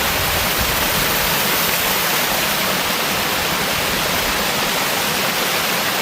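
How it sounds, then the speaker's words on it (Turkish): Waterfall in a city forest spilling down between rocks, a steady broadband rush of falling water that stays close and constant throughout with no voices. "bak yukarıdan aşağı şelale Nasıl gidiyor diye bak"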